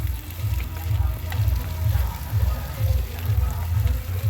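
Sliced potatoes and onions fry in hot oil, giving a steady sizzle with soft, rhythmic pulsing bursts throughout.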